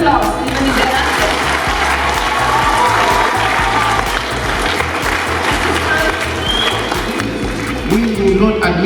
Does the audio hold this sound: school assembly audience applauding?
yes